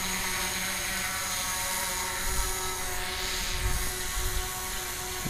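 A DJI Mavic Pro drone in flight gives off a steady high-pitched propeller whine and hum, constant and fairly close, holding without voices for the whole stretch.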